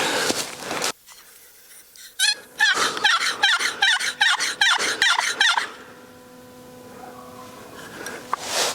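A wild turkey gobbles loudly and close, a rapid burst of repeated gobbling calls following a softer call, then fading into quieter outdoor ambience during a spring morning hunt.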